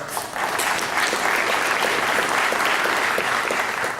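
Audience applause at a ceremony honouring Latino taxpayers and alums, a dense, sustained roar of clapping from a large crowd that stays even throughout.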